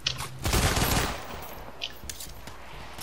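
Pistol gunfire in the video game Payday: The Heist, a quick rattling volley of shots followed by a few scattered single shots, fairly close and moderately loud.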